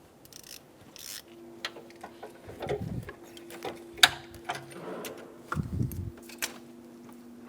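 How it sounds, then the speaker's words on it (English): Ratchet with socket loosening a bolt on the engine of a 2000-2007 Ford Focus, quiet short bursts of clicking ratchet teeth with mechanical clunks and a sharp tap, close and fairly faint. "Once you get your socket on the bolt, go ahead and loosen it up and remove the bolt."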